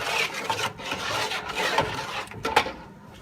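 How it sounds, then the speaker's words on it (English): A spoon stirs garlic through melted sugar and vinegar in a pan, close, rough scraping and rubbing strokes repeated in uneven bursts, with no one speaking. "Have a little stir."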